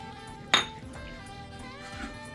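A single sharp metallic clink of a utensil against the pan rings out while flour and Parmesan are stirred in for an Alfredo sauce, followed by faint scraping and a softer tap; no voices.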